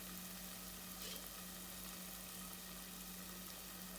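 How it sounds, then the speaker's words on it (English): Aloo matar paneer gravy simmering gently over a low flame gives a steady, quiet bubbling hiss that stays even and continuous, with no voices over it. "I'll lower the flame and allow it to simmer."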